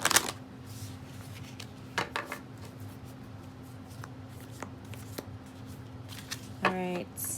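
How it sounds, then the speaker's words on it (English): Tarot cards get shuffled by hand, a soft riffling and flapping that rises in short bursts with quiet gaps, close and faint, ending in a quick ripple of cards. "one more shuffle"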